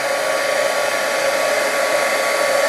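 Heat tool blowing a steady, loud, unbroken whoosh while melting thick embossing powder, running alone without pauses.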